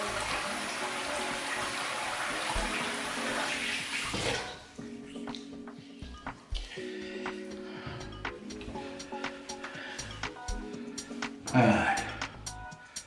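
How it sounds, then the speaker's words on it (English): Water runs steadily from a tap for about four seconds while someone rinses their face after shaving, then gives way to scattered splashes and dripping, with a louder splash near the end. "I'll rinse off, see how I feel"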